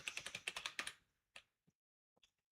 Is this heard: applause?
no